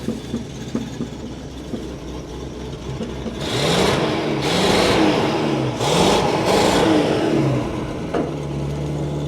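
A chopped 1950 Buick engine running rough is revved repeatedly in a few rising surges, loud and close, then settles onto a steady high idle.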